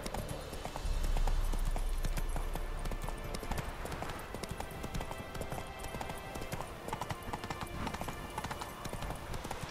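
Horse hooves clip-clop in a steady, continuous rhythm against a busy game-world background in The Witcher 3: Wild Hunt, with no one talking.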